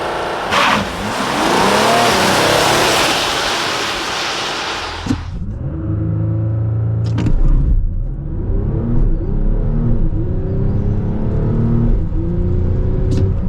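An Audi A6 V6 TDI diesel accelerates hard from 0 to 100 km/h, a loud roaring engine and wind rush that drop off into a lower droning engine note with gear changes and rising revs, heard from inside the car.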